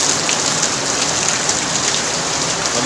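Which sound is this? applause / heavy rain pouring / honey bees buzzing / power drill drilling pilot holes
heavy rain pouring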